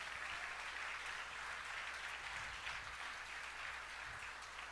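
A church congregation applauds a pastor and theology graduate as he is introduced, a dense, steady roar of clapping that holds evenly throughout, with faint low rumbles underneath.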